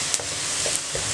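Cumin seeds hiss and crackle in hot oil in a pan for a spicy chicken cheese dish, a brief, steady sizzle with a few soft ticks of stirring.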